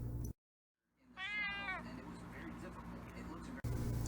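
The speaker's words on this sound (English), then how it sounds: "Here's one of my cats." A pet cat at home lets out a short, wavering meow of about half a second. It comes after a sudden drop to silence and sits over a low background rumble, with people talking around it.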